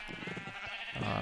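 A short sheep bleat in the video game Minecraft, a single faint wavering cry lasting about a second over low background sound.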